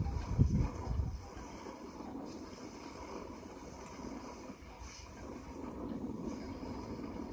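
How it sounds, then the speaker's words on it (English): Steady low rumbling wind buffeting, constant and fairly faint, with a brief louder gust or knock near the start. "As I say, it's very windy"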